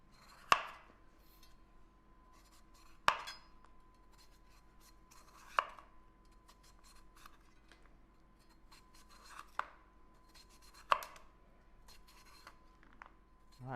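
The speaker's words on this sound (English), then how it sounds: "Let's get our cucumbers chopped up." Knife chopping cucumber on a board, six sharp, isolated taps spaced a couple of seconds apart, quiet and close with near-silence between cuts.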